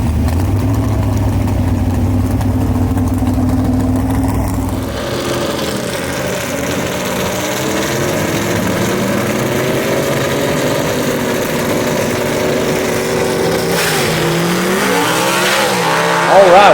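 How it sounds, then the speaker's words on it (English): Gasser drag race cars at Mooresville Dragway roar off the line in a loud, sustained engine blast with tire squeal, the pitch sweeping as they race down the strip, with a commentator's voice over the noise. "what a drag race right there"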